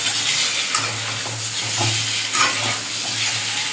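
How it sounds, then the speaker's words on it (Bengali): Eggs frying in a kadai alongside fried onions and potatoes, giving a steady close hiss with scraping stirring strokes throughout. "সাথে ডিমগুলো ভাজা হয়ে যায়"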